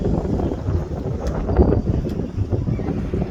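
Coastal wind at Depoe Bay, Oregon buffets the microphone in a loud, continuous rumble with small gusty swells, heard alone.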